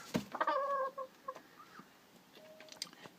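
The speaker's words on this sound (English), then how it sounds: "These are my two Barber Danver cockerels, and they have to come in every night because they're rather loud." Close, loud crow from a Barbu d'Anvers cockerel at the start, followed by softer clucks and scattered bird calls.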